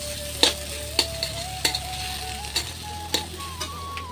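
Soybean chunks frying in a pan for a vegetarian meal, with a steady sizzle and sharp, regular scrapes of a spatula stirring them about every half second, close and fairly loud.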